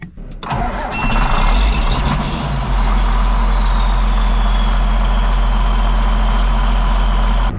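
A tractor engine cranks and fires up close by, catching with a loud roar and then settling into a steady, heavy idle rumble, with no talking.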